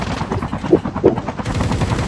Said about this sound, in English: Shoot the heli, shoot it out.